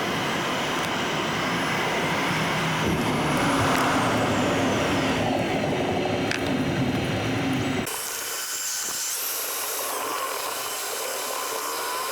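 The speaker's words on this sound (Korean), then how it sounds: "저기 비행기가 보입니다. 아마 제주도를 가는 것 같은데 제주행 비행기는 진짜 낮게 나네요." A low-flying airplane bound for Jeju passing overhead outdoors in cold weather, a loud, continuous engine roar with a slowly shifting whine, broad noise dropping off sharply near the end to a quieter hiss.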